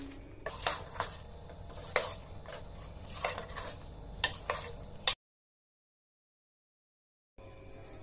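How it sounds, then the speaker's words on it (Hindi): A spoon stirring coconut paste into cooked mixed vegetables in a pan, with irregular scraping clinks and knocks against the metal for several seconds, then a silent gap before faint kitchen noise returns. "जो पेस्ट बनाई हूँ नारियल का, अब इसको हम डाल के मिला लेंगे।"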